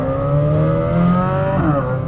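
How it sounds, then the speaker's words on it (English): A Chevrolet C8 Corvette Z06 in weather mode accelerates through its gears, the engine note climbing steadily, then dipping at a shift near the end and rising again. The sound is loud and close. "I'm letting it go through the gears a little bit."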